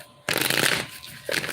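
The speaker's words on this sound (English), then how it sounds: "Gonna do 2 more shuffles and we're gonna begin." Tarot cards are shuffled up close in two quick riffling bursts, a papery flutter rising suddenly, fading, then starting again briefly.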